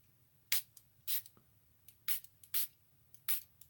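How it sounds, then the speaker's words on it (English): Small spray bottle spritzing water onto a canvas for stamping, six or seven short sharp hissing puffs at an uneven pace, close and fairly soft against a quiet room. "now all I'm going to do now is take my little spritzer"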